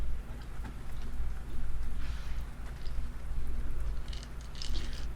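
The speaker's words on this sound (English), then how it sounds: "rain stick for fish" A rain stick played in a cozy ASMR reading session, giving a steady hiss of trickling beads with soft rustling swells, close and alone without talk.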